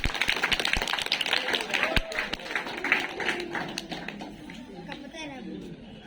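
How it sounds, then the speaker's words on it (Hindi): An audience at a school program on girls' education breaks into scattered clapping, with a few sharp nearby claps over crowd chatter, gradually thinning and fading out. "बहुत बढ़िया, जोरदार तालियां बजाइए।"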